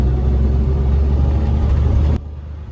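An old truck with a sticky clutch and loosening brakes rumbles along under way, its engine giving a steady low drone that cuts off abruptly near the end.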